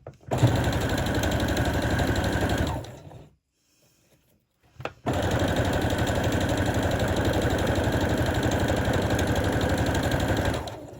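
A sewing machine running steadily while stitching fabric bunting, a fast even whir of needle strokes that stops for about two seconds, then starts again and runs continuously to the end.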